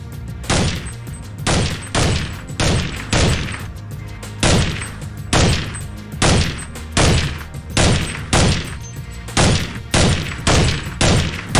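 Suppressed weapon fire in the Counter-Strike 1.6 game: a long run of evenly spaced, sharp muffled shots, roughly two per second, loud and close with no talking.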